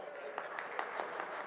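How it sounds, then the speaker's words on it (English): A conference keynote audience gives faint, brief applause, a few scattered claps standing out over a steady background hum at a distance. "Round of applause, Miss Pac-Man."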